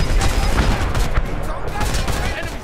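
DPICM artillery rounds striking in the video game Homefront, a rapid, loud string of overlapping blasts and crackling impacts that continues throughout, with faint voices underneath.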